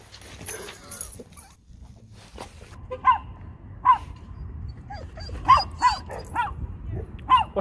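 A chihuahua barks in a string of sharp, high yaps spaced a second or so apart, fairly close, over low background rumble, with brief talk near the start.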